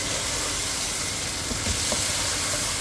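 Chicken pulao masala with tomatoes, lemon and green chillies sizzles steadily in a pot, a close continuous frying hiss with faint stirring scrapes and no voices.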